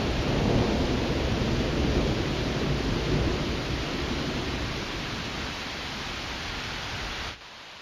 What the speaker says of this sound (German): Donner grollt.